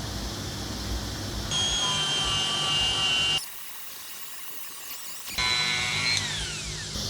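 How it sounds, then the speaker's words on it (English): A 1/8 inch Dremel with a Scotch-Brite wheel buffs metal in a steady, loud high-pitched whine that cuts out briefly and returns with a shifting pitch, and no voices are heard. "I'll buff this area down with our 1/8 inch Dremel with a Scotch-Brite"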